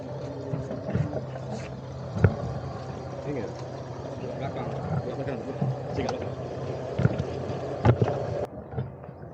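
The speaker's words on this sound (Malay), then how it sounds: "Perjalanan bot ni pun tak lama, cuma sekitar 20 minit je untuk sampai ke Pulau Besar." Private resort boat carrying passengers on a roughly 20-minute crossing to Pulau Besar (Pulau Babi Besar), Johor: a steady low engine drone with water wash and occasional knocks, continuous throughout, with voices faintly mixed in.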